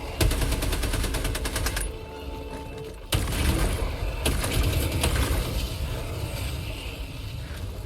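Rapid gunfire in the video game Helldivers 2, dense bursts of automatic shots and impacts filling the whole stretch, loud and close, with a brief dip before the shooting resumes.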